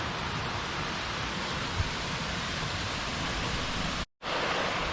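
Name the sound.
brook flowing beside the path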